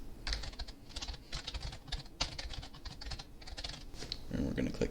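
Computer keyboard keys clatter in quick, uneven bursts of typing at close range, with a brief low murmur near the end.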